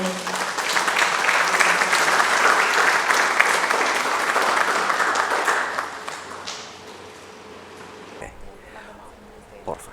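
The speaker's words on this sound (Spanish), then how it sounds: "Recibámoslo con un fuerte aplauso, por favor." An audience claps loudly and steadily to welcome a speaker at a talk on codependency in an addict's family. The applause is dense and sustained, thins out after about six seconds, and then fades to near quiet.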